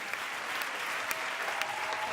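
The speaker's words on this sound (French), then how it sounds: "Applaudissements pour elle." An audience at a children's singing audition show gives a young singer a round of applause, dense, even clapping heard alone and slightly distant, with a few sharper claps standing out.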